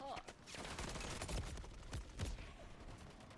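Rapid bursts of gunfire from a first-person shooter video game, several volleys cracking loudly in quick succession over dense, busy game noise, with a voice mixed in.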